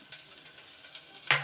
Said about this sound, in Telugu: పచ్చిమిర్చి ఉల్లిగడ్డ వేసేది, నూనెలో వేసేది